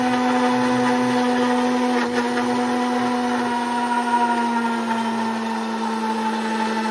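A blender whirs steadily as it mixes a shake of bananas, peanut butter and milk, a loud, even motor hum running unbroken and alone, then cutting off at the end.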